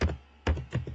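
Keys clack on a computer keyboard, a few quick, soft taps close by in a quiet room.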